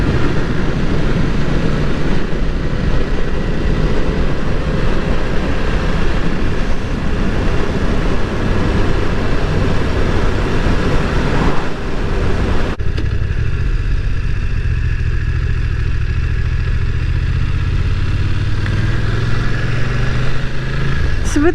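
A BMW F900R motorcycle engine drones steadily while riding, a loud, continuous rumble with wind noise that shifts in pitch as the bike changes speed.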